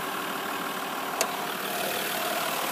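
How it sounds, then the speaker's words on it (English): A 2014 Jeep Grand Cherokee EcoDiesel engine idles at close range with the hood open, a continuous even rumble with a brief click partway through. "It's a Jeep diesel engine. Sounds sweet."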